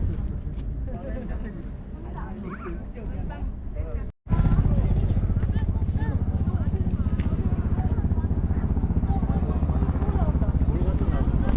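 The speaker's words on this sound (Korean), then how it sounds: "헬기가 꽤 많이 오네요." Helicopters flying over Seoraksan mountain in Gangwon-do, near the cable car to Gwongeumseong, give a steady, loud rotor and engine drone that fills the whole stretch after a brief cut, with people talking intermittently underneath.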